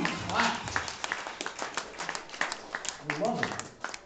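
Audience applause and clapping for a live band at a stand-up comedy show, a steady patter of hands with voices and cheering mixed in throughout.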